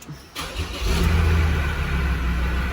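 A Mazda BT-50 / Ford Ranger diesel is cranked and catches after a fuel filter replacement, a brief churn rising into a loud, steady close-up idle.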